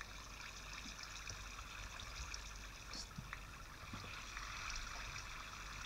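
A Minecraft waterfall gives a faint, continuous rushing and trickling wash of water, steady and low in level throughout.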